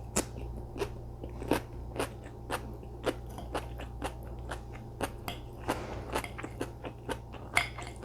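Crunchy food bitten and chewed close up, a dozen or so sharp, evenly spaced crunches over a low steady hum, with no talking.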